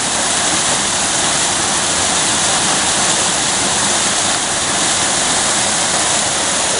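Phantom Creek waterfall in the Grand Canyon roars as a loud, steady wash of broadband noise, constant throughout with no breaks and no voices.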